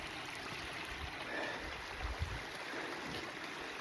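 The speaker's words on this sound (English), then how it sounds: "There's the creek, and there's up the creek." A creek near Worthington Road flows steadily with a constant broadband rush of water. There are faint low thumps, probably footsteps along the bank, and no voices.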